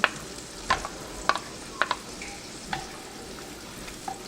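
Shallots and garlic simmer in a pan with a soft, steady sizzle, punctuated by a few faint pops and light clinks at irregular intervals, close and quiet with no voices.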